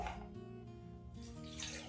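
Water is poured steadily into a saucepan with a silicone mat in the bottom, set up as a double boiler for making lotion, a continuous close rushing splash with no voices.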